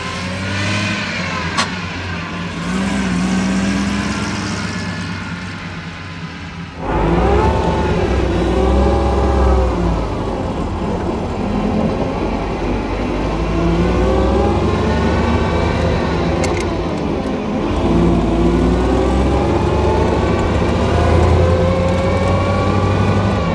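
The supercharged engine of a 1935 Bugatti Type 46 S cabriolet runs under way at close range, loud and continuous, its pitch rising and falling as the car accelerates and shifts.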